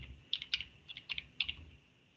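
Someone types a search into a computer keyboard: a few quick bursts of clicky keystrokes with short pauses between them, close and moderately quiet, no voices.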